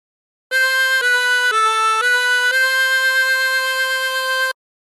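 A harmonica plays the melody of Aura Lee without bends, moving through a short phrase of steady, sustained single notes that change every half second or so, clear and close with no accompaniment.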